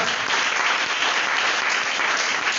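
A church congregation applauds, a dense, steady wash of clapping that fills the room evenly without pause.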